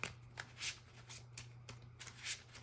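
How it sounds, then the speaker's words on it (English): Yu-Gi-Oh trading cards are shuffled by hand close up in quiet repeated riffling bursts with short pauses between them and a low steady hum underneath. "We're going to go ahead and shuffle."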